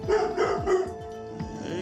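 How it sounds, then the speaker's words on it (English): A dog barks and yips repeatedly in quick, loud bursts during an aggressive-behavior training session, close by, with no one talking over it. "That bark to me is, I'm not sure. But he's letting it out."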